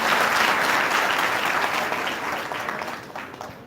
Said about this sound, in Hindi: एक हाथ उठाने के लिए जोरदार ताली हो जाती है।